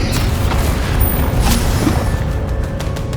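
Explosive Bombarda and Confringo spell blasts from Hogwarts Legacy go off in a dense, continuous barrage of booming bursts and crashing impacts, loud and close, with no pause across the stretch.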